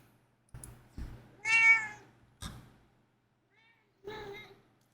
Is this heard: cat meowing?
yes